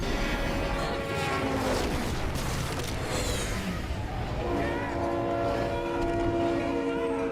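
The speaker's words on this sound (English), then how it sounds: "they have the train passing" A train rolling past in a horror film scene, a continuous loud rumble of wagons with a horn sounding in long sustained tones over it.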